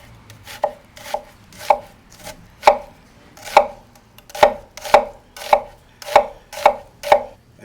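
Knife chopping onions on a cutting board with a pull-cut motion: a steady series of about eleven crisp, close thunks spaced roughly half a second to a second apart, with no talking.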